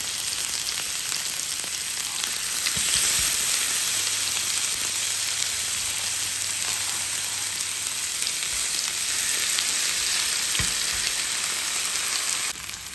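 Lamb chops searing in a pan over high heat, giving a loud, steady sizzle and crackle that runs unbroken and close throughout, with no talking over it.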